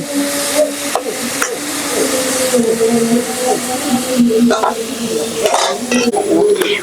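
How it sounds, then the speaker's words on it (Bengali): Spiced raw mango pieces sizzle and fry in a wok, a constant crackling hiss broken by repeated metal spatula scrapes and knocks, with a faint tonal hum running underneath. "এই কড়াইয়ের ভিতরে মশলা মাখানো আমগুলো দিয়ে দেব"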